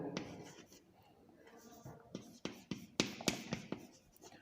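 Chalk or marker tapping and scratching on a board while writing chemical formulas for complex ions, quick faint strokes and taps in bursts beneath soft speech.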